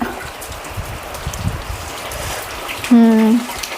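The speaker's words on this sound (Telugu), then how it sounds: "చూడండి వాన్ కుమ్మేస్తూ ఉంది" Heavy rain pours down outdoors, a dense, steady hiss of drops close by, with a voice speaking over it and a brief tonal sound near the end.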